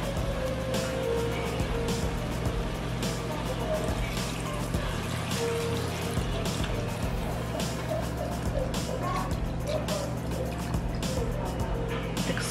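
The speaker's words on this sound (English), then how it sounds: "Now I'm going to add some water." Water is poured into a pot of yellow split pea soup with eddoes and pigtails, a steady soft trickling splash running throughout under a constant background hum.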